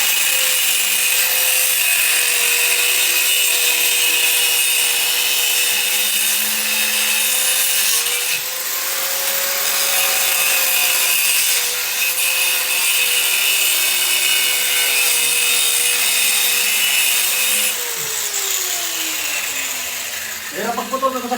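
An angle grinder cuts through a pipe on a construction job, its high-pitched whine running steadily and loudly with slight changes in pitch as the disc bites. It winds down briefly near the end.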